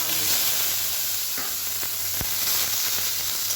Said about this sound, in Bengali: আমটা একটু ভাজা ভাজা করে নেবো হালকা নেড়ে নিয়ে